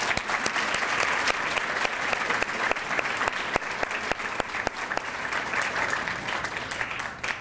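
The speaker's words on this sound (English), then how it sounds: "can we please give them a round of applause?" A crowd claps enthusiastically at a charity fashion show gala, a sustained, even burst of applause with crisp individual claps standing out, and no speech over it.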